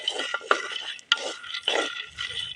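Groundnuts dry-roasting in a pan, stirred with a spoon: a few close, gritty scraping strokes with rattling nuts, separated by short pauses, and no talk.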